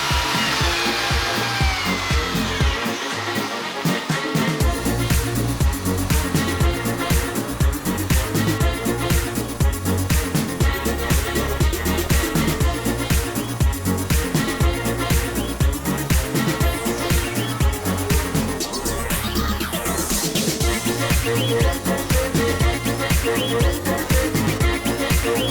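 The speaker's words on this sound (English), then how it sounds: "I'm the vacuum guy now." A shop vacuum running steadily during a vintage trailer renovation, a loud continuous whooshing drone with a rising and falling pitch that lasts the whole stretch without talk.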